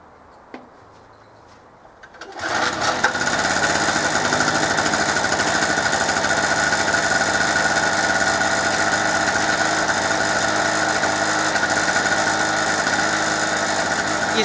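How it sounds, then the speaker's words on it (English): A two-stroke generator, test-run after two years unused, catches after a couple of quiet seconds and settles into a steady, loud buzzing drone that runs on unchanged. "Just going to start this up again just to make sure it's still going"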